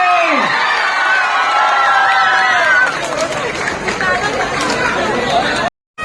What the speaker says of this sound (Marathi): याला म्हणतात जल्लोष.